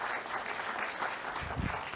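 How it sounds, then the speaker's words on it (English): Audience at a live business conference session applauds its guests, a short, dense wash of clapping from a crowd heard at moderate distance. "Perhaps a round of applause for all of our guests for this session."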